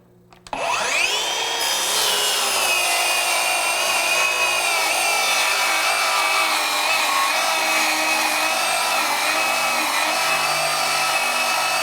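Craftsman V20 and Ryobi 18V One+ HP brushless 7-1/4 inch circular saws cutting wood at full depth: a sharp start-up followed by a loud, sustained high whine and rasping blade noise for over ten seconds, with no speech.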